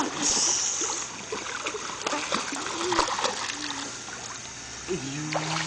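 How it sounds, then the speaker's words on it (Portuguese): A child kicks their legs in a swimming pool, churning up continuous close splashing and sloshing water, while an adult voice speaks briefly toward the end. "Bate a perna, Gabriel."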